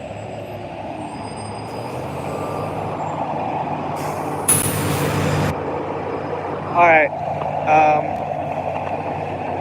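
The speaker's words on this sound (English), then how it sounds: "this bus is making so much noise" An MBTA shuttle diesel bus idles with a steady low rumble, a loud burst of air brake release hissing midway, then two short squealing brake chirps; a voice speaks briefly.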